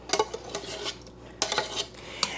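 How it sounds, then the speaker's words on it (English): A spoon stirs lasagna sauce in a metal pot, clinking and scraping against the sides in several uneven bursts, close and fairly loud, with short gaps between strokes. "I'm just gonna stir this around real good"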